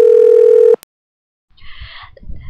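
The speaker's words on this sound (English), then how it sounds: "Now we will connect through phone to our reporter in Alaska" A steady telephone dial tone holds loud and close, cuts off abruptly, then after a short silence a crackly, noisy phone line opens up as the call connects.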